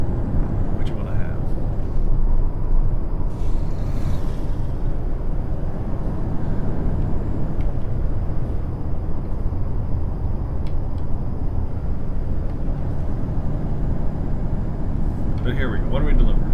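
A damaged truck engine at 20% damage in American Truck Simulator, a steady low rumbling drone running continuously throughout, with someone talking over it.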